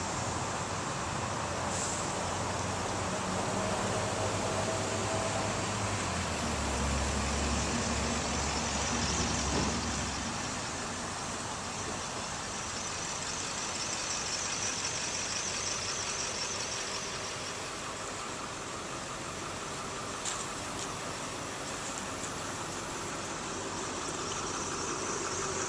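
A 2007 Ford Mustang GT's V8 engine with dual exhaust idling steadily with a low rumble, joined briefly by a deeper throb early on, then settling into an even drone.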